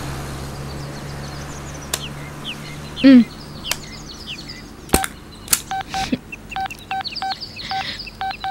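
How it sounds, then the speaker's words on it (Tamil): Short run of mobile phone keypad tones in a Tamil film scene, a dozen or so quick beeps coming in pairs and clusters over faint background ambience, with a louder knock or thud just before them. "பேலன்ஸே இல்லாத ஃபோன்ல யாருக்குடா ட்ரை பண்ற?"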